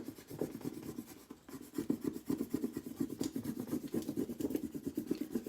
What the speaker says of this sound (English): my table is moving because I'm rubbing